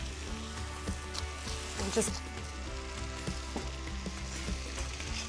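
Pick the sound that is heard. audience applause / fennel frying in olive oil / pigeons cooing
fennel frying in olive oil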